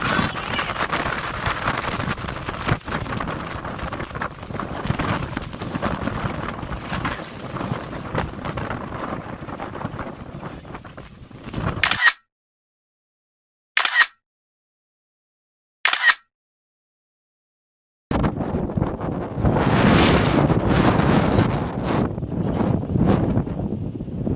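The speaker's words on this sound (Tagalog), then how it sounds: "Grabe ang lakas ng hangin." Strong gusty wind on a hilltop view deck buffets the microphone with a loud, rough roar that cuts out briefly in the middle before blasting back in.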